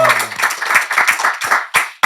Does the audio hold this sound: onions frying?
no